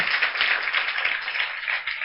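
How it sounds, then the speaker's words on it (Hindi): Children at a summer camp event clap together to welcome guests of honour, a dense, even patter of applause lasting about two seconds at moderate loudness, without speech. "आज तमाम बच्चे भी तालियों के साथ इनका इस्तकबाल करें"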